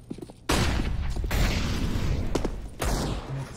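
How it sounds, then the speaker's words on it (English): A flashbang grenade going off in CS:GO on the Mirage map: a sudden loud burst after a quiet moment, then a sustained harsh ringing wash with a second sharp hit near the end. "Deploying flashbang."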